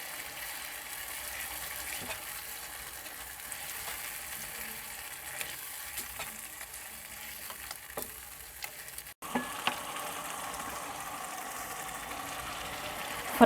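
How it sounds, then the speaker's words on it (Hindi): Ground cumin, turmeric, coriander powder and green chillies roast with vegetables in a pan, a steady soft sizzle with occasional stirring scrapes and clicks, close but quiet, with no talking. "अब मसाले को अच्छी तरह भुनेंगे।"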